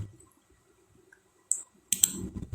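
A mouse click on the OK button while working in Microsoft Word on a mail merge, heard as two short, sharp clicks close together in a quiet room with no talking.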